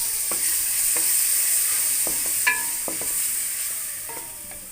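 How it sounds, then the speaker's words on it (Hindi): Chicken pieces frying with chopped garlic in a pan, a soft steady sizzle with scattered light clicks and scrapes of a spatula, close and moderately quiet, no talking. "चिकन डालेंगे इसमें।"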